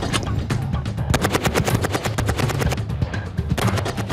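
A Browning 7.62 mm machine gun fires a sustained rapid burst of sharp, loud shots in a steady rhythm, close and continuous, with a brief pause before firing resumes.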